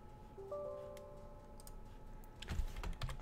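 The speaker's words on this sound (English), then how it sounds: "and we type pip" A few soft clicks of typing on a computer keyboard at a terminal, faint and close, with a faint electronic hum underneath and no voices.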